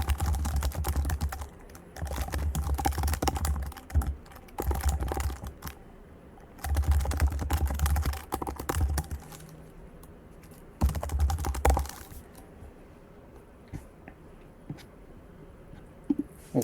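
Quick bursts of typing clatter on a computer keyboard, with close, crisp keystrokes and brief pauses between runs, fading to a few scattered taps toward the end.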